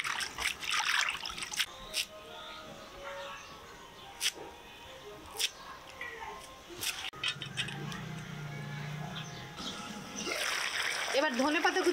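Coriander leaves being rinsed under running water while cooking a rohu fish head chachra with potato and brinjal; soft trickling and splashing with faint clinks, swelling into a louder rush of water near the end.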